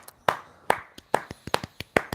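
A few hands clap in a quick, uneven run of sharp, fairly quiet smacks, about ten in two seconds, with no talk over them.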